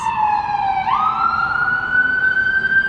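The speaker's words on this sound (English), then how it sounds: "This siren's really loud." A loud siren wails nearby, its tone sweeping upward and then holding a steady high pitch.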